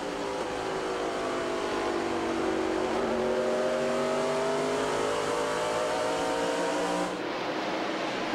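Stock cars in a 1999 Bellsouth Mobility 320 race screaming at around 8,000 rpm down the front straightaway, a loud, sustained high-revving roar whose pitch sweeps as the field passes.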